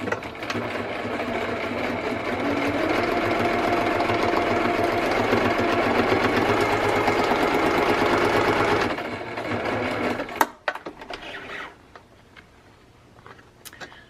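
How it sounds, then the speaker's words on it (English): A sewing machine stitches around the pockets of a traveler's notebook insert cover in one steady, continuous run for about nine seconds, then stops, leaving a few faint clicks and handling noises. "I'm just going to sew around the pockets"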